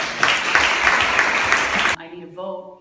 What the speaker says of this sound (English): we need a round of applause for